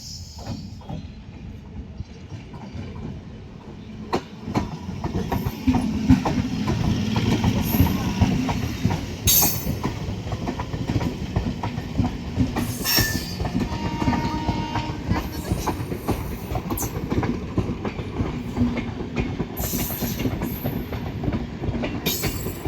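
A Diva passenger train pulls into platform one at Bhiwandi station, its heavy rumble and rhythmic wheel clatter building, with sharp bursts of metallic wheel squeal along the way.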